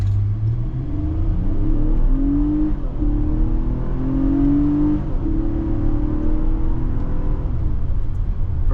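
A 2023 Infiniti QX60 Pure AWD pulls away from a standstill in manual mode on the paddle shifters. Its engine hum climbs in pitch, eases back at each upshift and climbs again, heard steadily from inside the cabin.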